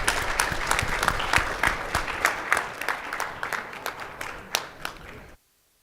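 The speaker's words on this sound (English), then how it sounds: "a big round of applause for Pavan and Morgan" Audience at a mortgage-industry technology event applauding, many hands clapping in a dense, lively burst with a few louder individual claps, fading slightly before stopping abruptly.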